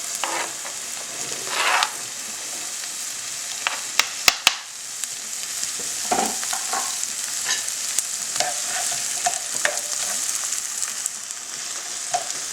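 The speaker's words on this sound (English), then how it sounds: "We're going to saute the onions and the garlic." Onions and garlic sizzle steadily in olive oil in a hot pan, with a bright crackling hiss, a few stirring scrapes and sharp clicks over the soft frying.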